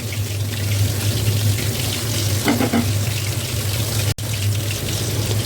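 Carrots, long beans and rice fry in a pan over a full flame for fried rice, a loud, steady close sizzle that runs without a break, with faint stirring scrapes.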